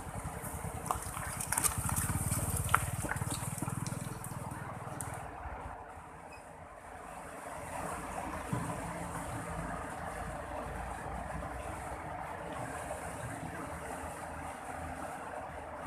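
Rushing rapids of the Alas river in Aceh, a steady broadband roar of fast water that holds throughout, briefly swelling louder near the start, with no voices.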